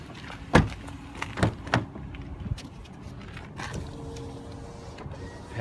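Rear passenger power window of a 2005 Toyota Highlander moving: a few sharp clicks and knocks, then a soft steady motor whir running for several seconds, close by and fairly quiet.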